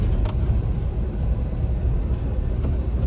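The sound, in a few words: car engine climbing hill in first gear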